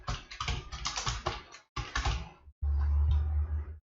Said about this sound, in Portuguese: deixa eu digitar o meu nome